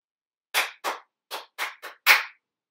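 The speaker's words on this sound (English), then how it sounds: "I'll clap it out and then I want you to clap it back after." Hands clap out a rhythm of six crisp claps, two spaced, then two, then a quick pair leading to a final louder clap, close and alone in silence.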